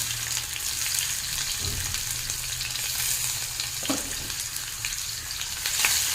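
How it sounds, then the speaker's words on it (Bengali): Onion and green chili fry in mustard oil in a wok, giving a steady, close sizzle with occasional stirring clatter and no talk. "পেঁয়াজ কাঁচা লঙ্কা ভালোভাবে ভেজে নেব"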